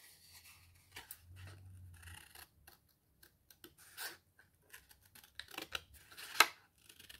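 Scissors cut through paper for a scrapbooking project, making a series of quiet, scattered snips and crisp crunches with brief pauses between them and one sharper cut near the end.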